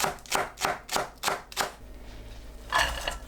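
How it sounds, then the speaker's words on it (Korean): Knife slicing green onion into rounds on a cutting board: five crisp, evenly spaced chops in a steady rhythm, close and clear, followed by a short pause and two more quick cuts. "파를 둥글게 썰어주세요."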